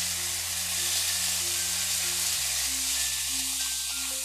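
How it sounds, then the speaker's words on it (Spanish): Peppers sizzling as they fry in hot oil in a pan, a steady close hiss and crackle throughout with no talking. "Caliente un poco el aceite, los echaremos y se reservarán también en otro platito."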